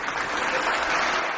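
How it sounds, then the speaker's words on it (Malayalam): A crowd applauding at a stage event, a dense, continuous wash of clapping hands at steady loudness for just over a second, close and full. "കയ്യടി."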